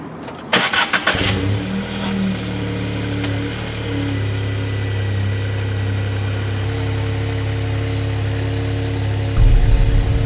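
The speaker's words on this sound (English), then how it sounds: "We just did a cold start there." A Volkswagen Up GTI cold-starts with a brief crank and catch, flares up loudly, then settles into a steady, slightly high idle that rises again near the end.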